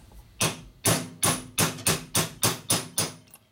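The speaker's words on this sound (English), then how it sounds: "Take your hammer and your tool and just beat them on in there." Steel hammer striking a tool to drive a valve collar into the head of a 1977 Harley-Davidson Sportster Ironhead 1000cc engine during a rebuild; eight sharp, evenly spaced metallic taps, close and loud, with no talking.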